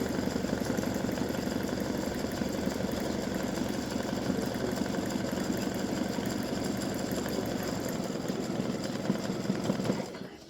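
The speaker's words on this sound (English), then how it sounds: "it's just finishing up the satin stitching around the blue stripes." An embroidery machine sews satin stitching on a patriotic stripes-and-star design, a steady rapid mechanical chatter at moderate, unchanging volume that runs alone before stopping abruptly near the end.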